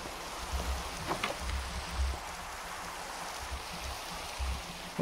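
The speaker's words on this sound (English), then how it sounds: "It's already raining!" Steady rain falling in Minecraft, a soft continuous hiss with faint patter and occasional low thumps, even and moderately quiet, with no talking.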